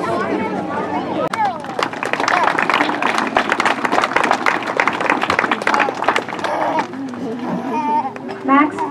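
An audience at a school bridge-building event claps in a dense, lively burst under excited chatter and children's voices, the applause swelling through the middle and thinning toward the end as talk carries on.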